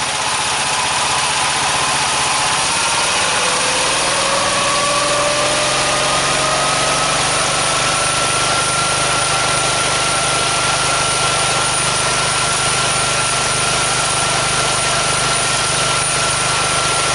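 Engine driving a DC generator revs up from idle, its steady mechanical drone climbing in pitch over a few seconds and then holding at a higher, constant hum, loud and close with no voices.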